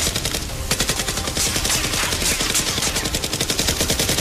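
Gunfire in a staged action scene with Nerf-style weapons, a loud, dense, continuous rattle of rapid shots like sustained automatic fire, close and with no talking.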